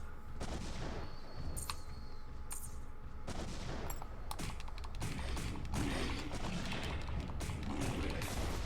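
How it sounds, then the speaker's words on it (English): Energy shotgun firing in the M.A.S.S Builder mecha game, loud separate blasts a second or so apart over a dense busy background of clattering effects. "I forgot the energy shotgun fires shots like that instead of rapid fire."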